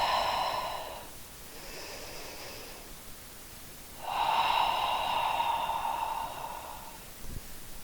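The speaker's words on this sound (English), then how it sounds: "Breathing through the stretch." Slow, deep breathing during a postpartum yoga stretch: a long exhale, a softer breath, then a longer drawn-out breath, close and quiet with no talking.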